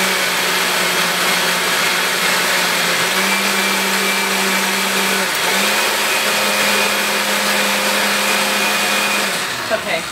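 A blender chops beets with liquid for a raw vegan lasagna, giving a loud, steady whirring roar that runs the whole time with slight shifts in pitch as the blades catch.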